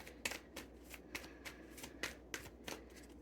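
Tarot cards being shuffled and dropped, a steady series of soft papery riffles and flicks close by, fairly quiet, with no one talking.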